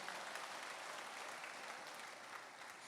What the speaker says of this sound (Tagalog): Atong tagaag kusog nga palakpak atong buhi nga Dios ana.